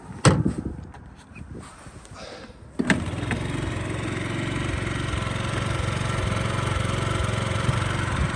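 A 2019 fuel-injected Yamaha Gear scooter's engine catches after a few nearby clunks and footsteps, then settles into a steady, even idle that runs on close by without pause.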